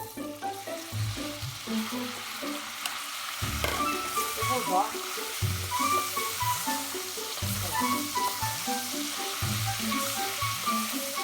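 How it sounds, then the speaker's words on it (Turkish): Diced marinated beef sizzles and crackles steadily in butter and oil in a hot pan, with intermittent clinks and stirring sounds; a voice briefly speaks. "marine ettiğimiz ve küçük küçük doğradığımız bifteklerimiz yani etlerimizi tavamıza alıyoruz"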